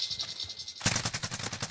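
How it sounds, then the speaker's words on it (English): Rapid bursts of video-game gunfire from an enemy shooting down from a rooftop, loud close shots that start abruptly after a brief quiet stretch and keep going in a fast repeating rhythm. "One on the roof trying to shoot at me."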